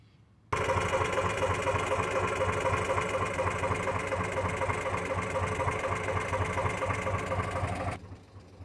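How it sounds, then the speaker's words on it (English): Old tractor engine abruptly starting up at a lakeside campsite, then chugging loudly and steadily at close range for about seven seconds before cutting off. "I love the sound of the old tractor."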